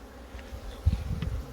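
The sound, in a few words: honeybees buzzing in a mating nuc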